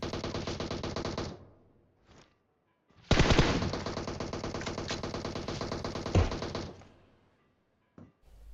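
Long automatic bursts of gunfire from PUBG Mobile, a squad fight near a house: two sustained rapid rattling volleys separated by a short gap and a few isolated shots, loud and close.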